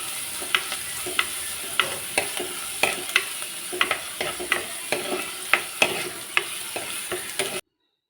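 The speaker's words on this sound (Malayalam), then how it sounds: "ചെറിയുള്ളിയും വെളുത്തുള്ളിയും ഇഞ്ചി അരിഞ്ഞതും കൂടി ചേർത്ത് നന്നായിട്ട് വഴറ്റി കൊടുക്കണം." Shallots, garlic and chopped ginger sizzle steadily in hot oil for a fish curry, with a spatula stirring and scraping in a brisk, repeated rhythm close by.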